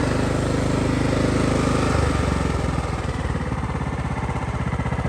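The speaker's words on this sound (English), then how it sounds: "Engine idle's nice, no surging whatsoever." A Craftsman LT1000 riding lawn mower engine idles steadily and loudly up close, its low, even throb holding a smooth rhythm with no surging for the whole stretch.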